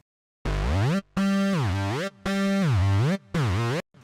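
Second keyboard layer of an instrumental remake of a pop song, the same part one octave higher: four loud, distorted synth notes with dipping pitch bends, separated by brief silences, with no voices.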